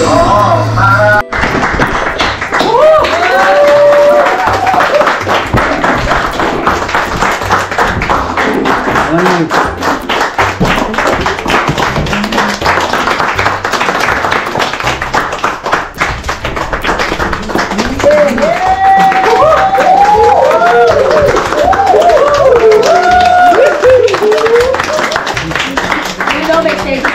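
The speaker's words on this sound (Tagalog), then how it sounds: "Ano pinapalakpak-palakpak nyo?" Several people clap in quick, loud, rhythmic bursts through nearly half a minute, close and crowded beneath excited talking and shouting voices.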